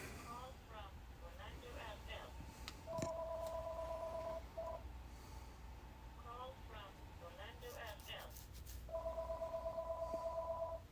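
Short electronic notification tones ring out twice, each a clear two-pitch chime lasting about a second and a half, over steady background noise and faint talk.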